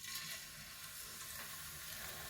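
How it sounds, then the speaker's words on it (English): Pieces of Ilish fish coated in salt and turmeric fry in mustard oil over high heat in a fry pan. The steady, faint sizzle and crackle goes on without voices. "you want to fry this on a high heat, otherwise it'll stick to the pan"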